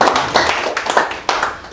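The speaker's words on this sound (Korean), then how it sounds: "다시 김 총재님한테 박수 한번" A small audience clapping at a lecture, with a short burst of distinct, fairly close hand claps in an irregular rhythm.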